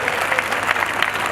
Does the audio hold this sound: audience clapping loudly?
yes